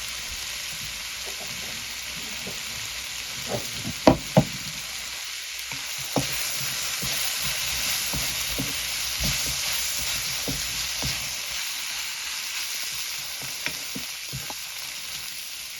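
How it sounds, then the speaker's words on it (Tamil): Tomatoes sauté in a pan for squid curry, giving a continuous soft sizzle with scattered stirring clicks and a few sharper knocks of the spoon against the pan. "தக்காளி பழம் நல்லா நல்லா வதங்கி வெந்து மசியணும்"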